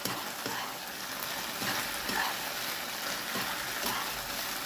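Fried cauliflower gobi tossed into a hot pan and stirred for gobi manchurian, giving a steady close sizzle with scraping stir strokes throughout and no talking.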